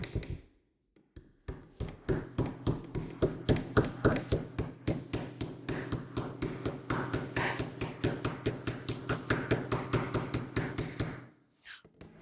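Rapid, evenly spaced metallic taps on an engine knock sensor, mimicking engine knock like a small hammer striking the engine, dozens in a steady rhythm for about ten seconds.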